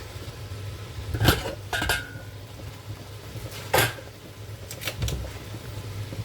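Metal cocotte handled in a home kitchen while potatoes cook, giving a few sharp clinks and clanks, two close together early and more spaced later, with no voices.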